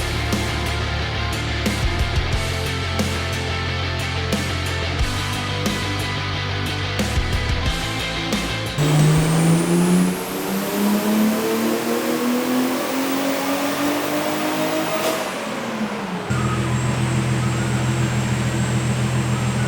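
A close-to-stock Nissan R32 GT-R engine on a dyno, idling roughly at first, then revving in one long, steadily rising pull that cuts off abruptly near the end, loud and close with no talking.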